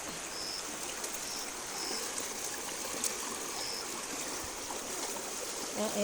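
A strong floodwater current rushes continuously during heavy, nonstop rain, a steady close wash of flowing water with no talking.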